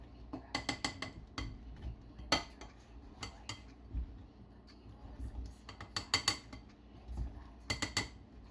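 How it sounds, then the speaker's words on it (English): A metal pastry cutter works through pie dough in a bowl, giving repeated sharp clinks and taps in irregular bursts, some in quick clusters, over soft scraping, close and fairly quiet. "I'm gonna use the pastry cutter a couple of times. Cut and shake, tap it out."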